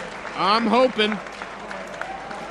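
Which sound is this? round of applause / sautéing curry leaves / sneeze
round of applause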